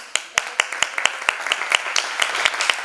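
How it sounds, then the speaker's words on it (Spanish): A small group at an arts and education conference claps in sharp, separate beats, a dozen or so claps in a loose rhythm, close and moderately loud. "yo voy a pedir el aplauso que le debo hace mucho tiempo"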